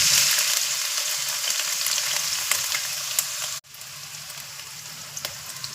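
Two large chopped onions frying in hot oil for a prawn fry, a steady close sizzle and crackle with brief stirring, a short break near the middle, then the sizzling resumes.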